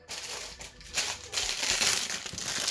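Plastic packaging crinkles and crackles as a stress-relief fidget toy is unwrapped, a close, busy rustling that continues for a few seconds without speech.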